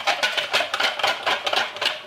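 A whisk beats chestnut batter for a galette des rois in a saucepan, a quick run of scraping, rhythmic strokes about five per second, close and clear with no talking.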